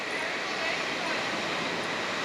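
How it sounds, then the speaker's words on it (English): A train passes at 55 miles an hour, making a steady, loud broadband rush and roar throughout with no talking. "That's a train going by at 55 miles an hour"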